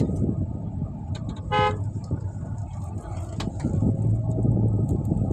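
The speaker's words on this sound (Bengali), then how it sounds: "এই টানা গাড়ি সব এখানে স্যার" Road traffic on a bypass at Akhaura, with passing cars rumbling continuously and a short, sharp horn toot ringing out near the middle, plus another fainter honk later, under a continuous low engine drone.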